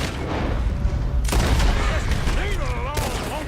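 Gunfire erupts in a Red Dead Redemption 2 shootout, a dense burst of booming shots and a rolling fusillade at close range, with a voice calling out over the din and shouting in the final second.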